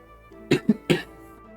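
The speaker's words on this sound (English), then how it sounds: "I have been coughing so much today." A run of three quick coughs, close and fairly loud, from a hoarse person with a heavy cough, standing alone against quiet background hum.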